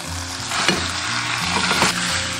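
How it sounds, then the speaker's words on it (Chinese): Side vegetables stir-fried in red oil from chili bean paste give a loud, dense sizzle right up close, with a few sharper scrapes and tosses of the spatula partway through. "稍微的把这些配菜炒一下"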